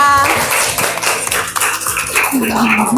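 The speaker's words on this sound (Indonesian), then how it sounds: "Tepuk tangan untuk Melita." A school class claps during a classroom meeting lesson, a few uneven claps and taps mixed with clattering knocks and voices talking over them.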